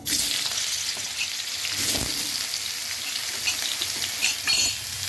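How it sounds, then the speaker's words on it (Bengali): Small pieces of pumpkin fry in a kadai wok, giving a loud, steady, close sizzle with faint stirring scrapes and no talk. "ছোটো ছোটো করে কুমড়ো কেটে নিয়েছি, এটা একটু ভেজে নেব।"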